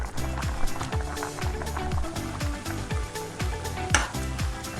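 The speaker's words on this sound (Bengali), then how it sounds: "মশলাটা ভালো করে কষিয়ে নিচ্ছি।" Ground spices such as turmeric, chili, coriander and cumin fry in a pan for soya chunk curry, a continuous sizzle with rhythmic scraping strokes of a spoon stirring, close and busy, with background music.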